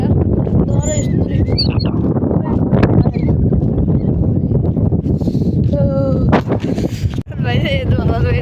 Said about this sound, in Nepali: यस्तो भुवाल हावा आइरहेको छ